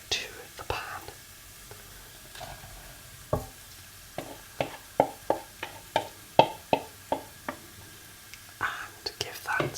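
Lamb for shepherd's pie is stirred and scraped in a pan with a soft sizzle, a run of close, rhythmic knocks and plops under quiet whispering.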